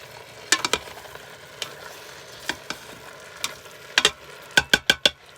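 Vegetables for a vegan broccoli cheese soup being stirred and sautéed in an Instant Pot: a soft sizzle runs underneath, and a spoon clacks sharply against the pot in scattered knocks, ending in a quick run of four or five strokes.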